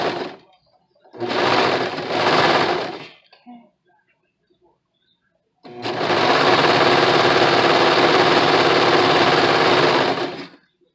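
A sewing machine stitches the inseam of a Simplicity 8519 garment in loud, close whirring bursts: a short run of about two seconds, a pause, then a long steady run of nearly five seconds.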